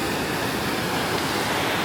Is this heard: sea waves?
yes